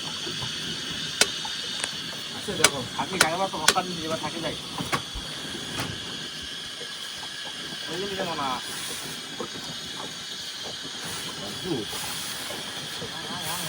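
Whole garam masala spices hiss and crackle as they hit hot oil in a pressure cooker, a steady sizzle with a voice talking over it.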